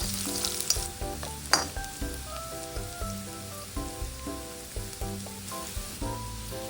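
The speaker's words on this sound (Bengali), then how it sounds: "আমি ভালোভাবে পেঁয়াজ আর রসুনটাকে ফ্রাই করে নেব" Onion and garlic fry in a pan toward dark brown, giving a close crackling sizzle with a rapid patter of spitting oil. A regular scraping rhythm of stirring runs over it, about once a second.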